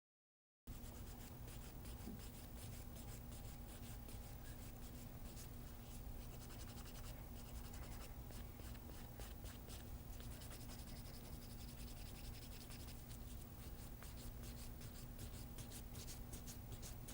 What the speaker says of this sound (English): Medium to rough grit file,